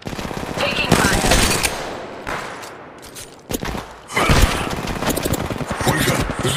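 Gunfire in the mobile game Apex Legends Mobile, rapid automatic bursts and sharp cracks, loud and close, coming in clusters with brief gaps between them.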